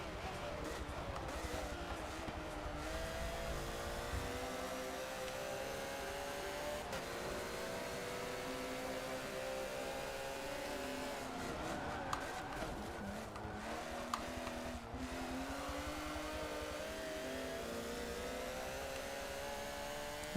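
Porsche race car engines drone steadily around the Mount Panorama circuit in Forza Motorsport 7. The engines hold a sustained, continuous note that rises and falls slightly as the cars shift gears, with no talking heard.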